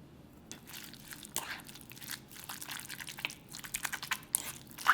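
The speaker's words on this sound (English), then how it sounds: "I'm going to mix this my Yukhoe right now" Seasoned raw beef yukhoe being mixed by hand, close wet squelching and sticky smacking sounds in a quiet, irregular rhythm.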